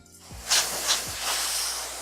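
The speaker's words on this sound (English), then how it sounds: "we're going to use some compressed air" Short hissing bursts of compressed air spraying while cleaning a disassembled Nintendo 64, two sharp blasts followed by a longer steady hiss, close by, with no talking.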